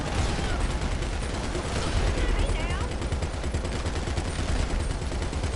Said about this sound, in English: I'm shooting at someone.